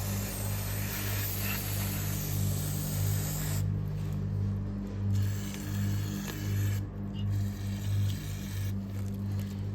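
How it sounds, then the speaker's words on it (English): A steady pressurized hiss of aerosol brake cleaner sprayed onto a 2009 Police Special motorcycle's front brake, with a couple of short pauses between bursts, over a low mechanical hum. "spray some brake clean in there"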